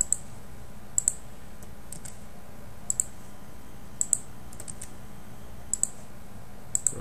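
Mouse clicks while working in DWSIM process simulation software: crisp, close double clicks repeated about every second, each pair separated by a low steady room hum.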